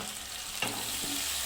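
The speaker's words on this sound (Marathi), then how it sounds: "तर आता हे बारीक चिरलेलं टोमॅटो हे घालायचं आहे" Finely chopped tomatoes go into onions frying in a pan, and a brief louder hiss rises over the steady sizzle before it settles back to an even crackle.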